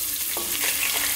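Garlic ginger paste hitting hot oil with onion for a potato egg curry, a steady broadband sizzle with faint stirring scrapes, close and alone without voices.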